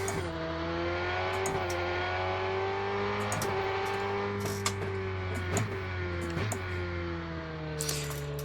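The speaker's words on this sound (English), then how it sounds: "the actual basic sounds of the engine, it's fine" A racing car engine in the video game Rennsport revs continuously, pitch rising and dropping with gear shifts, a steady mechanical drone with brief blips.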